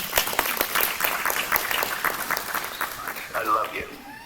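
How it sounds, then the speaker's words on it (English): Applause from the audience at a Tuskegee Airmen Day address, a dense stream of clapping with some voices and cheers mixed in, moderately loud and steady throughout. "let's give Colonel Hardy another round of applause"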